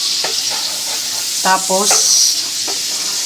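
Garlic and onion sautéing in a pan for ginisang kamatis, with a steady high sizzle and light stirring, as a voice briefly speaks over it.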